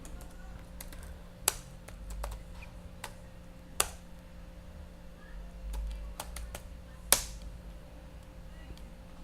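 Sparse keystrokes tap on a computer keyboard as Linux commands are entered, a few sharp isolated clicks spaced seconds apart over a low steady hum, close and otherwise quiet.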